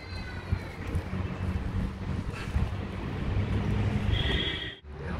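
Steady wind buffets the microphone in a low, continuous rumble, with a brief high tone near the end and no speech.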